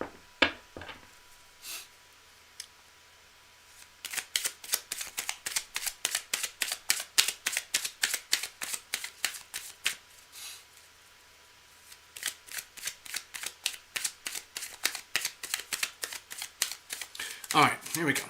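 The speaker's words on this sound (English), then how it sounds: "I'm going to keep shuffling again." Tarot cards being shuffled by hand: long runs of quick, crisp riffling clicks in close succession, near and fairly clear, broken by a short pause and then resuming.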